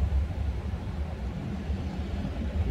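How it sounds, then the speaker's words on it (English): Generators running in a neighborhood without power after Hurricane Ian, a steady low droning rumble heard from a distance. "Generators galore because nobody has power yet."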